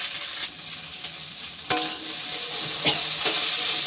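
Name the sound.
frying thick taro stolons (kochur loti) in a pan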